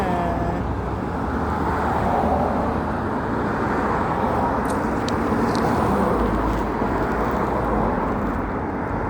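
City bus on route 1A pulling up to a stop, a steady broadband engine and road rumble lasting throughout, moderately loud and close, with surrounding traffic noise and no clear voices.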